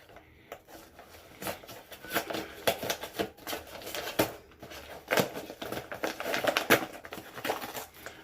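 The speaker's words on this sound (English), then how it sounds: "And now I gotta open the package." A mail package from Japan is torn open by hand without scissors, giving close, irregular bursts of crinkling and ripping paper and plastic over several seconds, with no voices.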